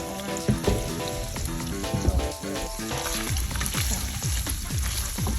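Spam sizzles and fries in a hot pan beside noodles cooking on high, a steady crackling hiss with scattered spatula scrapes and stirring knocks, close and continuous.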